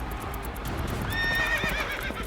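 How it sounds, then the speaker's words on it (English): Galloping racehorses give a steady thumping hoof rhythm under a loud, high neigh that rises midway, heard close and without talk. "The thunder of the hooves echoed throughout the surrounding mountains"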